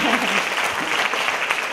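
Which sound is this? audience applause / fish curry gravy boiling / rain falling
audience applause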